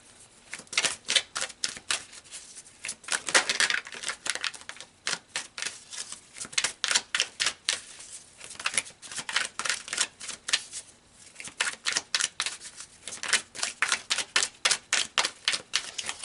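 Tarot cards are pulled and handled up close in a run of sharp, crisp snapping and flicking clicks that come in irregular bursts and quick rapid flurries, with no voices.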